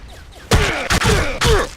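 Video-game gunfire from an AK-47-like weapon, three short clustered bursts of sharp rapid shots with ringing tails, loud and close, each burst roughly a fifth to a third of a second long.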